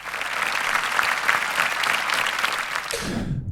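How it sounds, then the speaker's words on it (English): Steady applause from an audience, broad and sustained for about three seconds before cutting off abruptly, with no voices over it. "we want to dedicate this well-deserved applause to the team and to our investors."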